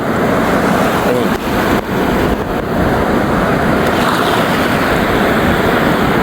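Sea waves washing onto a beach on the Chanthaburi coast of Thailand, a loud, steady surf roar mixed with wind that continues without a break.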